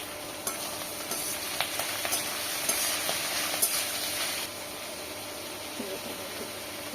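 Shredded cabbage, chopped onion and green chili frying in a pan, a steady broadband sizzle with occasional stirring scrapes and clicks, close and moderately loud, easing slightly toward the end; no talking.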